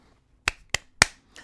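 A person claps four times, sharp and close, in an uneven rhythm in an otherwise quiet room. The last clap is softer.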